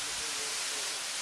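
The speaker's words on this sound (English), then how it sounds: "here's the waterfall" A waterfall near a coastal walking track with a bridge at Kaikoura, New Zealand, roaring as a steady, broad wash of falling water that stays constant and fairly distant throughout.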